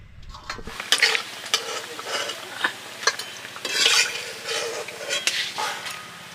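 Pieces of fish belly fry in a pan, a steady sizzle broken by repeated scraping and clattering strokes of a spatula against metal, close and fairly loud.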